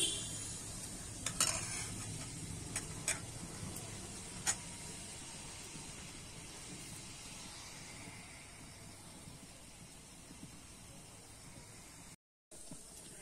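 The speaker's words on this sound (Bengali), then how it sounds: "এবারে কিন্তু আমি তেলের মধ্যে ছেড়ে দেব।" Poa pitha batter dropped into hot oil, a soft sustained sizzle close by with a few sharp clinks of utensils early on, fading quieter toward the end.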